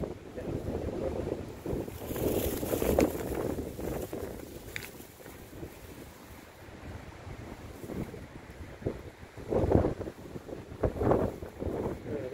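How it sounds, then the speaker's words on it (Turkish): Gusting wind buffets the microphone outdoors near the sea on a boat, with irregular rumbling bursts and water noise; a voice speaks briefly amid the windy roar. "Rüzgarlar."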